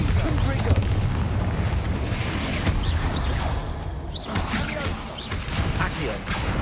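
Bombarda and Confringo spells blast in Hogwarts Legacy, a dense run of heavy booms and crashing explosions stacked close together, with voices calling over the chaotic battle noise.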